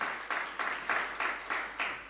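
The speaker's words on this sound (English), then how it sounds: "Won't you please stand let's give them a round of applause as well" Short bursts of applause from an audience at a live draw event, arriving in about seven quick rhythmic swells of clapping, moderately near and fairly quiet, with no talk over it.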